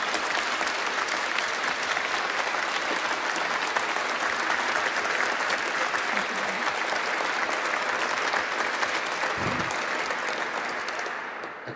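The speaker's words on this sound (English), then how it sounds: "Please applaud." A large audience at a Utrecht University honorary doctorate ceremony gives Minouche Shafik sustained, dense applause that holds at full strength and then starts to taper at the end.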